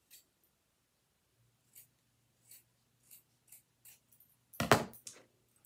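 Scissors snip through a 6x4 inch oval of fabric for a doll's collar in a quiet room, a handful of small crisp cuts spaced out, ending with a louder close rustle and snap.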